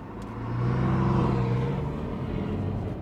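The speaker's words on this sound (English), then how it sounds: "Someone got the Porsche out, okay." A Porsche car pulling out and driving off, a low engine rumble that swells over the first second and then holds steady, fairly close, with no voices.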